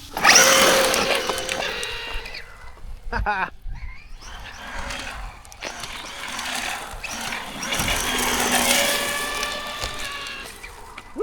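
A new RC rally car on 4S power bashing along a school's paved road: an electric motor whine that rises and falls in pitch as it speeds up and passes, close and loud, with brief gaps.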